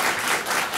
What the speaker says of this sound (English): I want to ask if you hold all your applause and your boos to the very end